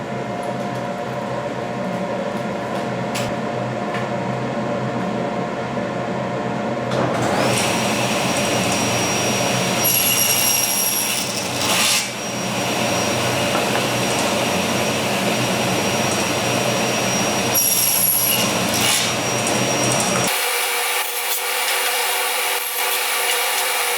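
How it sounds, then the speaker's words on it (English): A table saw with a crosscut sled and stop block cuts cedar slats for a patio side table, a loud steady motor drone broken by repeated bursts of blade cutting through wood before cutting off abruptly. "I have my table saw set up with my crosscut sled with a stop block set at 10 inches to cut the 16 slats"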